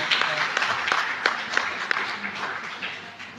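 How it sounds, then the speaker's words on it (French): Applause from a conference audience at a university closing ceremony, a moderate patter of many hands clapping with sharper individual claps standing out, gradually thinning as it fades. "Ben Omar Ndiaye, qui mériterait vraiment des applaudissements très chauds"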